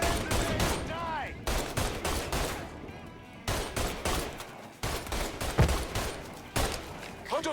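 A shootout in Mafia III erupts in repeated bursts of gunfire, loud volleys separated by brief pauses, with shots layered over combat ambience.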